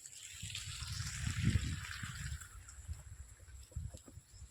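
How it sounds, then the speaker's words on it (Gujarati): Water from a hose trickling and soaking into loose soil around the base of a tree, a faint, low gurgling flow with soft splashes, quiet and outdoors. "આ થોડુંક નીચે પાણી છોટી દઈએ, માટી એ બધી બેસી જાય"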